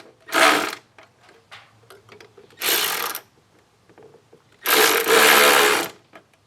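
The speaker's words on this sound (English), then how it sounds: "Now tighten these down." Three short bursts of mechanical whirring and clicking, separated by quiet gaps, as clamps are tightened down while an APR air intake is installed on an Audi.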